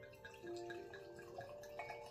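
Yellow Tail Cabernet Sauvignon wine is poured into a glass, a quiet, close trickling and gurgling of liquid with a rising tone as the glass fills.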